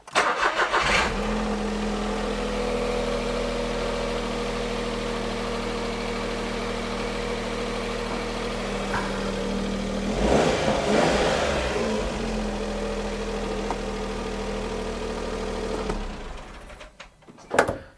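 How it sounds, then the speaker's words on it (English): A car engine cranks briefly, catches and settles into a steady idle with a low rumbling hum for a long stretch, a short rev midway, then shuts off with a few clunks at the end. "Give the engine a little turn over to make sure it actually runs and fires and works properly."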